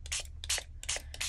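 Water misted from a hand spray bottle onto watercolour paper, four short, crisp hissing bursts in an even rhythm, close and fairly quiet with no talking.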